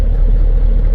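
A camper truck engine idling as it warms up before a drive, a loud, close, steady low rumble.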